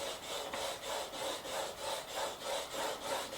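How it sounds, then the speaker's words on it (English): Sandpaper rubs a bone guitar saddle in steady back-and-forth strokes, about seven even, close rasping passes with no talk. "Let the sandpaper do the work."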